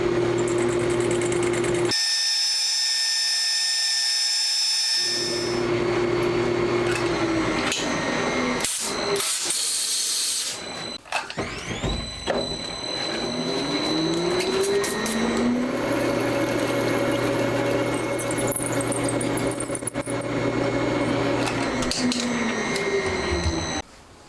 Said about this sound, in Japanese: ドリル